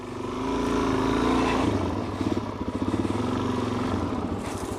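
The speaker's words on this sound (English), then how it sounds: "Let your engine brake work to slow you down." A motorcycle engine brakes off throttle, its low pulsing drone steadily dropping in pitch as the bike slows, loud and close with an uneven, rhythmic exhaust burble.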